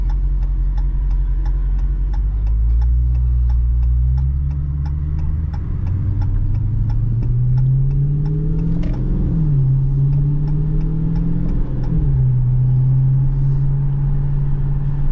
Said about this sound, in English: I like driving the Hellcat in a manual mode where I'm shifting by myself